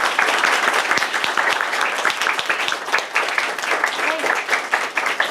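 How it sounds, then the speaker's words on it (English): A symposium audience breaks into sustained applause, dense rapid clapping that stays loud and steady throughout with no talk over it. "A round of applause."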